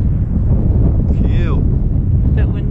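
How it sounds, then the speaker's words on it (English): Strong wind buffeting the microphone at the summit of Mount Nameless, a loud, steady low roar that fills the whole clip, with brief faint higher sounds over it. "A bit windy, as you would expect."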